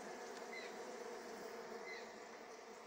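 Bees around a beehive give off a steady, faint buzzing drone, with a few individual insects whining briefly closer by, and no voices.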